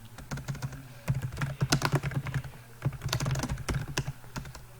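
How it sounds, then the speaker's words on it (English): Fast, continuous typing on a computer keyboard, a dense run of close key clatter with brief pauses and a low steady hum underneath, without speech. "So I'm going to go and type some of these examples."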